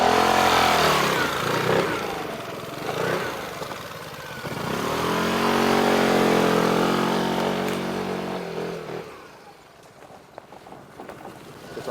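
An Aprilia SR 125 GT scooter engine starts and revs while climbing a hill, the whine rising and falling in surges before easing off toward the end, close and fairly loud.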